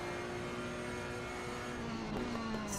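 A race car engine heard onboard at the Nurburgring holds a steady, loud droning note that shifts pitch slightly near the end, with no voices over it.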